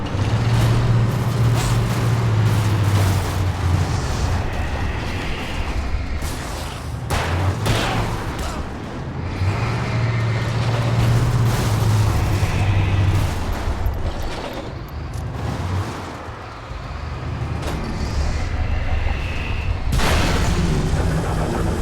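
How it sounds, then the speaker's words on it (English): A possessed bulldozer rampages in Alan Wake, heavy engine roars and rumbling surges rising and falling with booming impacts and metallic clanks, loud and close throughout. "Heavy metal survived the bulldozer attack."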